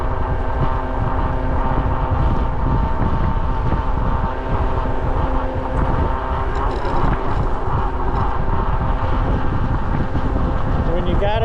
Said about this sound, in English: You know it's windy when you got to tilt the bike.